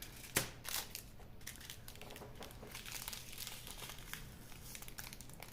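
Paper crinkled and crushed by hand while packing a food tray, a faint, close rustle with one sharper crackle near the start followed by steady soft crinkling.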